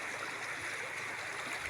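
A mountain stream rushes continuously, its steady watery hiss filling the space at close range, with no voices over it.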